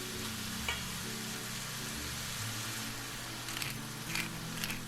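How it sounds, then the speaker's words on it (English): Chicken and cauliflower saute in a pan with a steady, close sizzle and fry, punctuated by a few brief crackles and stirring scrapes, with no voices. "I'm gonna continue to saute until they have nice color and cooked truly."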